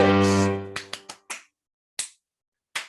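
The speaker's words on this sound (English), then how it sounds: "I clap the rhythm" Six sharp hand claps ring out one after another in an uneven rhythm, each distinct and close, after a held musical tone fades.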